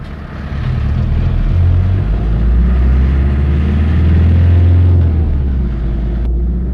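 Rural post bus engine in the Welsh countryside near Abergwesin, a steady loud low rumble of driving throughout with no talk.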